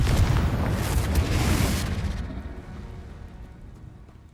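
Confringo spell explosion in Hogwarts Legacy, a loud blasting burst with crackling debris that rolls on and then decays into a fading rumble.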